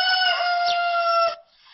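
A rooster among backyard poultry lets out a single loud, close crow, held as a long steady call before cutting off abruptly, followed by faint background noise.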